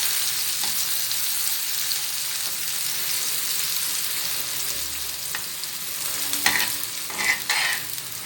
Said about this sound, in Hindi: ये देखिए, ये प्याज जो है ये फ्राई होना शुरू हो गई है।